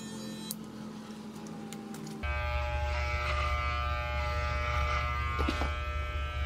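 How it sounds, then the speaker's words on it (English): An electric shaver buzzes steadily while shaving a head, switching on partway through with a loud, close, continuous hum and faint ticking underneath. "I'm probably gonna end up shaving it a little bit lower"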